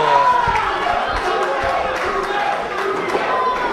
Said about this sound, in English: And the crowd erupts with a Bruno chant.